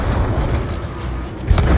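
A rumbling explosion in the Call of Duty Black Ops 2 video game, with a dense low boom running throughout and a fresh heavy thud near the end, loud and close.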